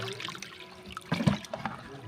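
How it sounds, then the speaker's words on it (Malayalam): Water poured into a fermented gliricidia leaf solution to double its volume, a short splashing, gurgling pour with a few louder sloshes near the middle, close by and without any talk. "ഇതിലേക്ക് ഇരട്ടി അളവിൽ വെള്ളം ചേർക്കുക"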